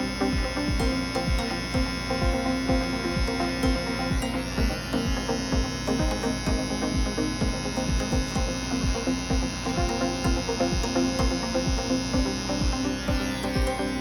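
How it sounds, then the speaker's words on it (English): Electric hair clipper trimming a soul patch beard, a steady close buzzing hum running throughout with continual small shifts as the blade rides along the chin hair. "Ride the side of your clipper onto the soul patch."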